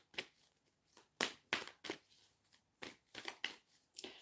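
Crisp riffling bursts of cards being shuffled, a dozen quick flutters in uneven succession, close and fairly quiet.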